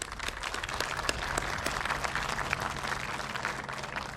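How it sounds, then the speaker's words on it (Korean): A crowd of guests at a 2021 national counter-terrorism training ceremony applauds the counter-terrorism agents. Many hands clap in a brisk, sustained round with sharp individual claps standing out. "여러분 박수 한 번만 더 보내주십시오."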